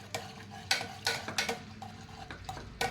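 A ladle stirs and mashes cooked dal with tomato, garlic and green chilli in a metal pot, giving several sharp scraping knocks in an uneven rhythm, close and fairly loud.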